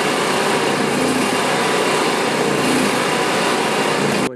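An Onan Microquiet 4000 generator engine runs loud and steady, a dense broadband high-pitched drone with no break, close by and alone.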